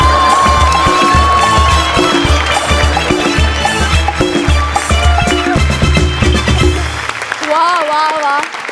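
An audience at a comedy skit show set at a wedding claps and cheers beneath loud, rhythmic music with a thumping beat. The music fades near the end, leaving a few wavering tones.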